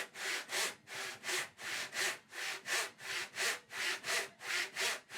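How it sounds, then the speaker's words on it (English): Tenon saw cutting plywood strips by hand, with steady back-and-forth strokes in an even rhythm of about two per second, close and clear with no talking. "It's not really the correct way to use a tenon saw, but I find that it's particularly effective for this."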